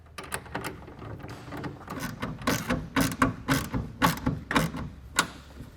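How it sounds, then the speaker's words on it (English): Clamp being tightened onto a pickup bed rail while fitting a roll-up soft tonneau cover to a 2016 Chevrolet truck: rapid, uneven ratcheting clicks and mechanical ticks build in a close, steady run, with no talk. "Now I'll tighten it down."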